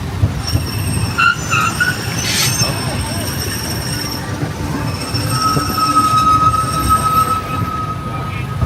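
Inside the Disneyland monorail train, wheels rumble and hum along the track with occasional high squeals and tonal whines, a steady close ride noise with a faint voice mixed in.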